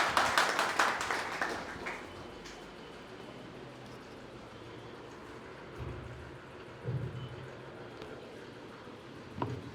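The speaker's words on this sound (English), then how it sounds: "Give him a huge round of applause." A school audience claps at the start of a student speech, a brief burst of close applause that quickly fades into a long stretch of soft, steady crowd noise.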